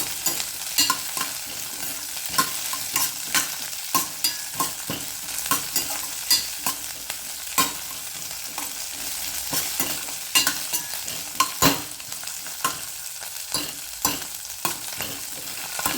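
Green chillies fry in hot oil for a chilli and curd fry, a constant close sizzle broken by rapid, irregular scraping and clicking stirs of a spoon in the pan, with no talk.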